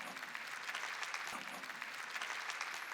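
Sustained applause from a church congregation at a Sunday worship service, steady and dense throughout at a moderate distance, with no talking over it.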